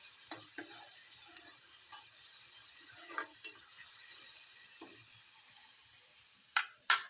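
Onions frying in oil with moth bean dal in a pan give a faint, steady sizzle, broken by a few soft scrapes and clicks from stirring and a couple of louder knocks near the end.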